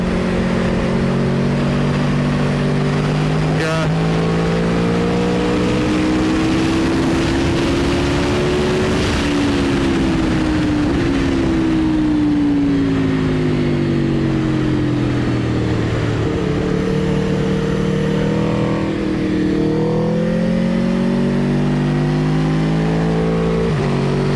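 A car engine drones loud and continuous from inside the car during a Silverstone Grand Prix Circuit trackday in snowy conditions. Its pitch climbs and falls with each gear change and shift in throttle, with no speech over it.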